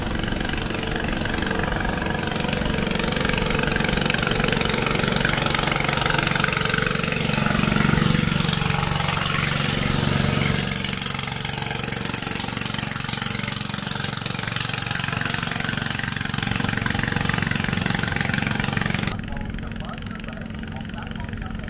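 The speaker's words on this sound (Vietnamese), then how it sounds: "những chiếc ghe, những chiếc thuyền, những chiếc vỏ lãi nè, chạy đang di chuyển trên dòng kênh" Steady low drone of boat motors on the Nguyen Van Tiep canal during the Mekong flood season, running throughout, with a person talking over it; the noise drops slightly near the end.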